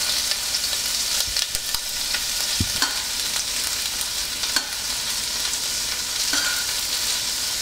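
Shrimp frying in oil in a cooking pot for pancit bihon, a steady loud sizzle close up, with a few sharp clicks and scrapes of stirring over the constant crackle.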